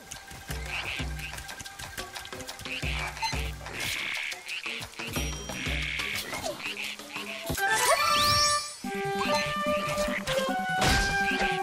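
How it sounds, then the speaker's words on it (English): Frogs croak in a wetland area of The Legend of Zelda: Echoes of Wisdom, with repeated low croaks running under game music and effects, which grow louder and denser in the second half. "Croaking song can call rain"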